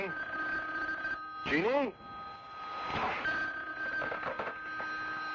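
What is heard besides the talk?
telephone ringing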